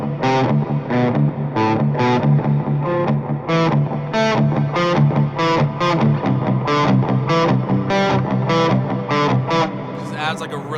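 Crunchy electric guitar from the Toneforge Misha Mansoor amp plugin, run through delay and reverb, plays a steady chugging riff of evenly spaced accented chords, loud and close with a lingering wash behind each hit.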